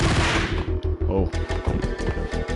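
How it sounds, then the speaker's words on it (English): Uzi fire in the video game Max Payne. A loud blast gives way to a fast, regular stream of shots rattling on steadily, with a voice briefly mixed in. "Uzis are very dangerous."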